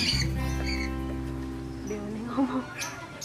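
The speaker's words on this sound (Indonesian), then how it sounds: "Beo nih ngomong." A myna bird at a bird breeding park in Bantul, Yogyakarta makes voice-like talking sounds and short squawks, with hum and people conversing nearby.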